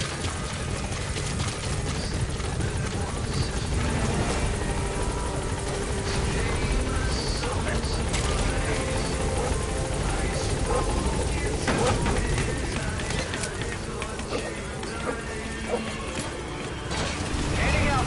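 A support helicopter arrives in a PS4 video game, its dense rotor roar filling the scene loudly and continuously, with radio voices talking over it.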